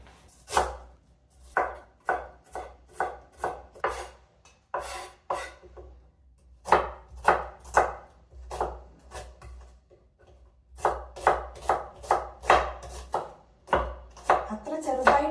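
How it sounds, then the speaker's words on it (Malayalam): A knife chops onion, tomato, carrot and cabbage for vegetable soup on a board, crisp close knocks in quick bursts of steady strokes with short pauses between batches; no talking. "ഇനി ഇതൊക്കെ കട്ട് ചെയ്തെടുക്കാം"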